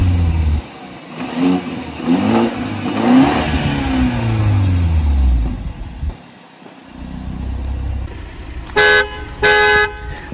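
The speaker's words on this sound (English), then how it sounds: "So Azan, do you like the way the horn sounds?" A BMW 530i engine revs and idles, then its horn honks twice in short, loud blasts near the end.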